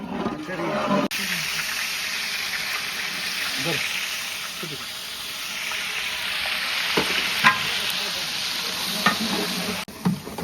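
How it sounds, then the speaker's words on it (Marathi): Oil frying in a pan, a loud, steady sizzle with occasional stirring scrapes and clinks, close by and continuous. "भाऊसाहेब कानगुडेने तेल टाकलेलं आहे."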